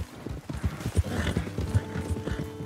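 Horse hooves galloping in Red Dead Redemption 2, a steady run of close, rhythmic clip-clop thuds with a faint snort or whinny mixed in.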